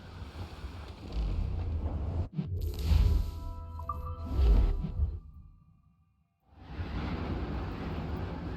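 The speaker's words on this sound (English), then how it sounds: "Wind's getting vicious." Wind gusts and water rush past a sailing ship at sea in Assassin's Creed Rogue, with loud swells of whooshing air and waves. The sound drops to near silence for a moment, then resumes as a steady roar.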